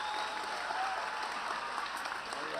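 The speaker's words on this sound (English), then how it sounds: "Let's give a round of applause again for Reverend Al Sharpton." The audience at a high school graduation in Brooklyn applauds for Reverend Al Sharpton in a broad, continuous wash of clapping, steady and moderately distant, with faint voices mixed in.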